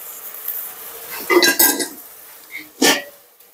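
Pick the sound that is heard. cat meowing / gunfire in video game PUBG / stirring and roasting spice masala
stirring and roasting spice masala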